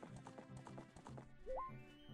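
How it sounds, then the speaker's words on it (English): Horse hooves clip-clopping in The Legend of Zelda: Ocarina of Time, a quick run of even, close hoofbeats that fades out and gives way to a short rising whinny-like tone near the end. "it's cool we got our horse now"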